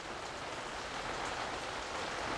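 Rain pours down outdoors in a steady, dense hiss that neither swells nor fades, with no voices over it.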